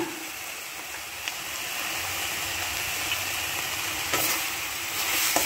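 Eggs with drumstick leaves frying in ghee and stirred in a pan, a steady close sizzle with scraping spatula strokes throughout, no voices.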